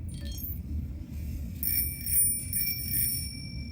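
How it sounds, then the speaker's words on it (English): A bicycle bell rings several times in quick bright dings, clear and close, over a low rumbling background. "So this is the bicycle bell."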